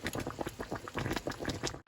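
Chicken soup with moringa powder bubbling at a rolling boil in a pot, a steady churning gurgle of popping bubbles throughout, close and fairly loud.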